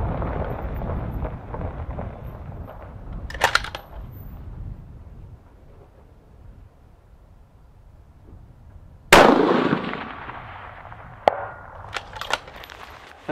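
Rifle shots from a Terminus Action Zeus switch-barrel rifle at a 547-yard range, sharp cracks with a loud report and later faint metallic round impacts against quiet background.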